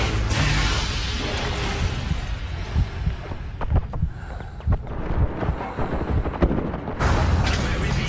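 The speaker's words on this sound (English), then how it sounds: "Call in an airstrike now" Heavy booming explosions from an airstrike in the SOCOM 4 video game, with a loud rumbling roar at the start and again near the end and a string of sharp blasts and thuds between.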